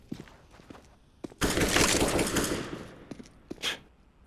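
Rapid video game gunfire erupts in a loud dense burst after a quieter stretch, with a few sharp isolated shots before and after.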